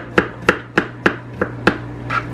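A knife chops onions on a board with seven crisp, evenly spaced chops about a third of a second apart, close and clear over a low steady hum, followed by a softer final stroke.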